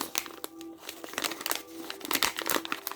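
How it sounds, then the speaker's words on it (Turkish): A plastic packet of sand for incense is torn open and handled close by, producing sharp crinkling and rustling bursts that crackle irregularly throughout. "Şimdi kumumuzu açıyoruz."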